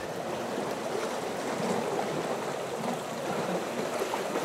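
Waves lapping and washing up along a shoreline waterline where crabs feed, a steady close wash of water rolling in continuously without any talk.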